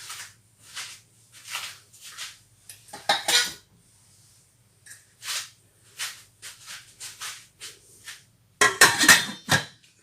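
A lid is set on a pot of Dubarry cauliflower soup, with several metallic clinks and scrapes of cookware and utensils separated by quiet pauses, then a louder clatter near the end.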